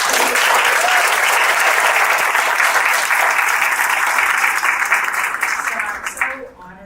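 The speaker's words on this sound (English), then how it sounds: "just a big round of applause for everybody that's doing this" Sustained audience applause at a 30th anniversary celebration for a children's assessment center, loud and steady for about six seconds before tapering off at the end.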